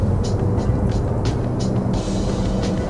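A 2001 Alfa Romeo 156 2.0 TS running, with a continuous low engine rumble and road noise plus a few brief brighter hissing bursts, loud and close, no speech.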